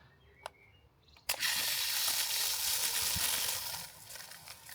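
A Parkside multi-function water spray gun bursts into action after a click, letting out a loud, steady hissing spray that carries on for several seconds before easing off, with no talking.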